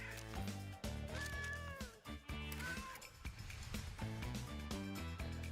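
Cat meows from a cat photography video game, heard in short repeated calls over loud, busy game music that fills the whole stretch.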